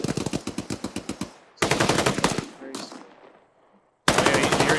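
Automatic gunfire in the military shooter game ArmA 3: rapid bursts of shots in quick succession, loud and close, separated by short gaps with echoing tails, then another burst at the end.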